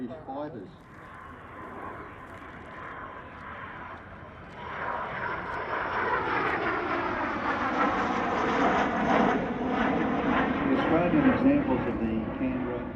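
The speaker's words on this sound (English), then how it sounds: "It's currently the only airworthy Canberra in the world that's flying in private hands" An English Electric Canberra jet flies past at an airshow, a steady, swelling engine roar that builds and holds loud across the clip while a person talks over it.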